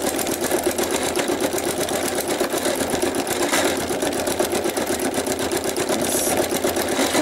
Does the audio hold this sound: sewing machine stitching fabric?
yes